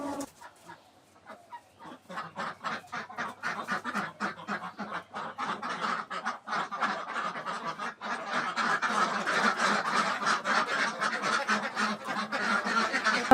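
Khaki Campbell ducks on a duck farm make a dense, continuous chorus of overlapping quacks and honking calls, starting quiet then growing steadily louder and busier, close by with no talking.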